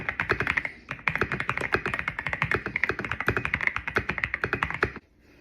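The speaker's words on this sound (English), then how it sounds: "did that look like she was just typing straight up gibberish?" Rapid, steady typing on a computer keyboard, a dense run of close, crisp key clicks for about five seconds with one short pause near the first second, then stopping abruptly.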